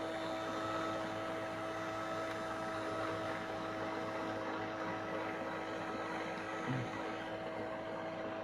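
A steady electric motor drives a test turbine, giving a continuous close whir with a constant tonal hum that holds unbroken throughout, with no talk over it.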